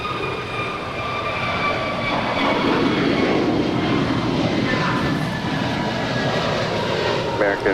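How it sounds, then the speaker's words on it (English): A one-year-old Airbus A321neo jet airliner departs at a distance, a steady mid-level engine roar with faint tonal whines layered on top. A voice speaks over it. "2532 departing to Washington National. It's a 1-year-old Airbus A321neo."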